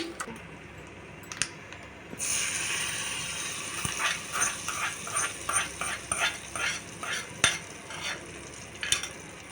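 Tamarind chutney is stirred into a hot tempering of dried red chillies and curry leaves, a steady sizzle with a rhythmic run of spoon scrapes and clinks near the pan, after a quieter opening.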